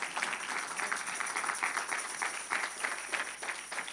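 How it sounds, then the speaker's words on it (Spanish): A church congregation claps for the Lord during a worship service, a soft, steady patter of many hands at a distance for a few seconds. "Denle un aplauso al Señor"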